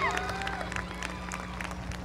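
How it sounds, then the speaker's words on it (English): Audience applause at a 2023 Edcouch-Elsa high school graduation ceremony, a steady wash of clapping across a large crowd with a low hum of the hall beneath. "another round of applause for Matthew Javier Rios"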